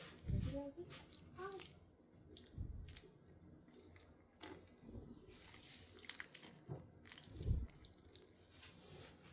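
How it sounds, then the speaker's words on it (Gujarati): Water trickles in small splashes and drips onto the soil of potted vines kept indoors, soft and close, poured a little at a time with quiet pauses between. "તો હવે એમાં છે ને પાણી થોડું થોડું પાઈ દઈએ"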